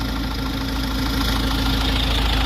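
A car's crate engine idles steadily up close, a continuous even mechanical rumble with a regular ticking beat and no talking.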